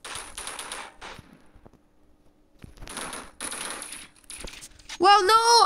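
Bursts of gunfire from the Roblox first-person shooter Energy Assault on mobile, with rapid shot volleys separated by a quiet gap, and a player talking over the game near the end.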